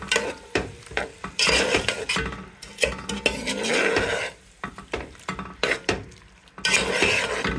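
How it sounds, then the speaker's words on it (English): Food cooking in a pot with Indomie noodles, stirred in repeated close scraping strokes over a crackling sizzle, broken by short quiet gaps between bursts of utensil clatter. "You just keep on stirring it."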